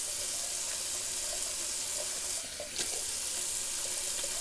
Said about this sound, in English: so just to do a little rinse off of the alum.